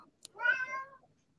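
A house cat gives a single clear, drawn-out meow, fairly close and alone, with a brief click just before and quiet afterward.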